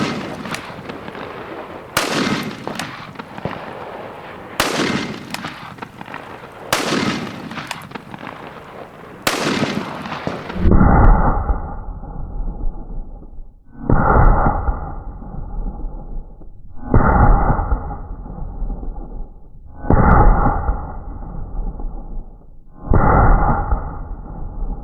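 A .45-70 BFR revolver fired repeatedly at a self-help book held in clamps: about ten loud, close shots evenly spaced a couple of seconds apart. The first five crack sharply, and the later ones land as heavier, duller booms.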